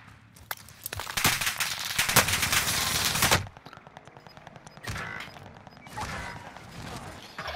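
Rapid bursts of automatic gunfire in a Call of Duty match, loud and dense for a few seconds, then sparser shots and a second volley further off.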